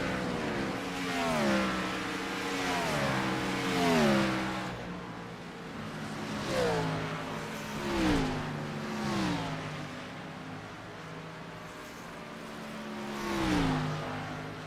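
Gen 4 Cup Series stock cars race at Dover, engines roaring past in repeated rising-and-falling waves with rhythmic revving surges over a steady background of crowd and track noise.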